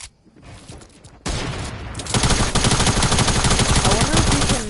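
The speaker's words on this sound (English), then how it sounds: "So that's a heavy sniper." Heavy sniper rifle fire in a video game, a quiet start giving way to a loud, dense barrage of rapid overlapping shots that keeps building to the end.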